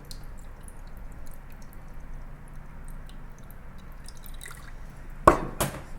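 Ponzu sauce poured over beef tataki topped with scallion: after a quiet stretch, two short, close liquid splashes land near the end.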